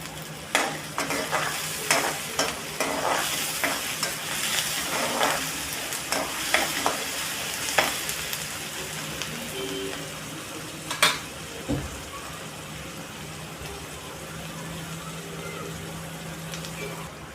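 Sliced onion fries in a pan with a pinch of salt, for a spicy Konkani potato and prawn curry, giving a steady sizzle with repeated scraping stir strokes throughout, moderately loud and close.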